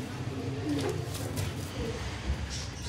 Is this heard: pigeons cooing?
yes